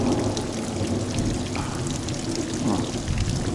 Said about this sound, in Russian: Дождь усиливается капитально.